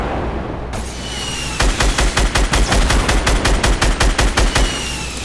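Rapid automatic gunfire in an online shooter match: a quiet lead-in, then a loud sustained burst of evenly spaced shots lasting about three seconds, close and dominant with no speech over it.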